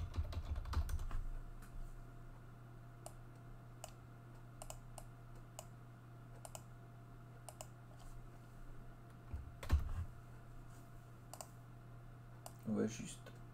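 Scattered clicks of keys being tapped on a keyboard come faintly and intermittently over a steady low hum.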